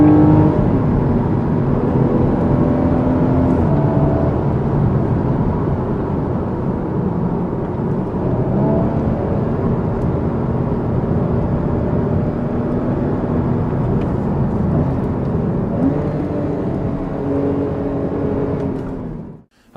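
A Porsche engine roars continuously at full throttle for a long stretch, loud and close, pitch shifting slightly before cutting off abruptly at the end.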